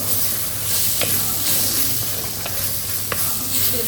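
Crab masala sizzling and hissing steadily in a hot pan while being stirred, with a few sharp clicks of the spoon against the pan. Close and continuous, with no talking.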